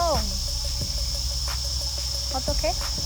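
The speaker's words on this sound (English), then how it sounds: "there's a kind of insect that's indigenous to this area that just makes noise like that forever." A steady, high, shrill drone from insects fills a dark forest at night, loud and continuous beneath a brief spoken phrase and a few scattered rustles.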